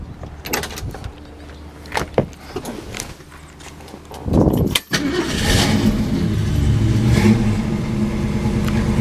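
A 1965 Ford Mustang custom coupe with its original radiator cranks over and fires, then settles into a steady idle with a few blips of the throttle. It is heard close up, with clunks and handling noises early on.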